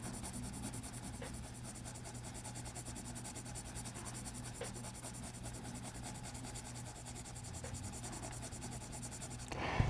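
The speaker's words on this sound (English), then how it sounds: "Coloring in light circles and turning my pencil." Pencil coloring on paper in light circles with the pencil turned now and then, a soft continuous scratchy rubbing held at an even low level close by, under a steady background hum, with no talking.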